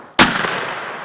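A single close, loud shotgun blast fired at a turkey outdoors, a sharp report that rolls off into a lingering echo.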